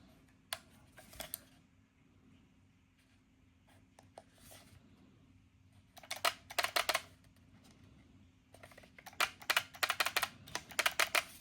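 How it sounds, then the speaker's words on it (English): Button clicks on a RAGNOK ErgoStrike7 gun-shaped gaming mouse, heard as sharp, close plastic clicks in scattered singles and then rapid bursts against a quiet background. "I don't know if the clicking this button changes the light"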